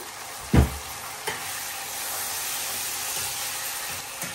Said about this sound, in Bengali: একে একে সব মশলা দিয়ে দিলাম।